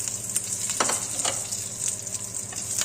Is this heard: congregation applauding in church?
no